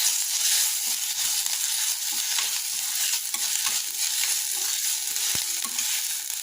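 Onion with ginger garlic paste fries in a pan for a cauliflower pepper fry, a loud continuous sizzle with frequent scraping stirs of the spoon.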